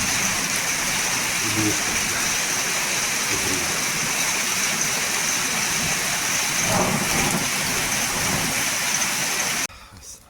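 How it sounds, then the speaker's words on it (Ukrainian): Rain falls steadily during a night in Kharkiv, a continuous hissing patter heard close and even, with faint low rumbles and brief murmured voices in the background. "Просто дощик."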